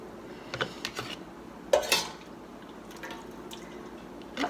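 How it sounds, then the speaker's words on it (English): A slotted spoon scooping bread and butter pickles into a canning jar: a few quiet clinks and knocks of metal against glass, with brief wet drips between them, close and faint. "So I start off with my slotted spoon. Fill this up."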